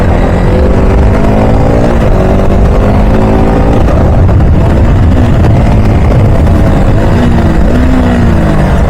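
Motorcycle engine revving repeatedly during rev-matching and engine braking, loud and close, with rising and falling throttle blips in an uneven rhythm and no talking.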